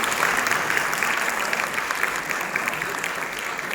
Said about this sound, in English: Can we have a huge round of applause for him?